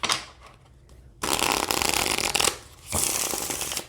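Pocket-size tarot deck from a tin being riffle-shuffled up close, two bursts of dense crisp card flutter separated by a short pause, with faint handling rustle before.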